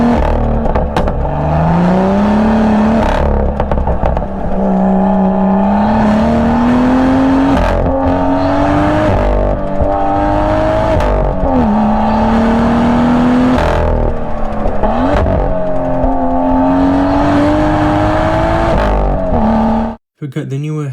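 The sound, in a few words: BMW M2 F87 sports car engine revving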